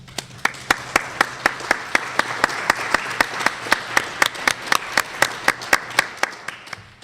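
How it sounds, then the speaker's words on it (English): Audience applause at a city council candidates forum in Crystal, a steady run of distinct claps in even rhythm, moderately loud across the room, with no talking. "Please let us give them a round of applause to thank them."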